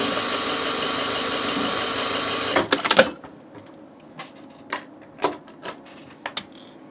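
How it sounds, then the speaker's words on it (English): A sewing machine motor winds a bobbin with a steady, fast whirring hum for a few seconds, then stops abruptly, followed by scattered clicks and small handling knocks. "We'll just get some bobbin going."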